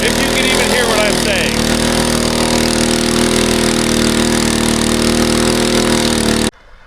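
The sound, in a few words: farm machine running at full RPM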